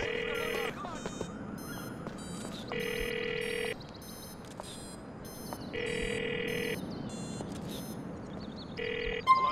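Mobile phone ringing repeatedly in the game GTA IV, steady electronic ring bursts recurring at regular intervals over a quiet city ambience, fairly close.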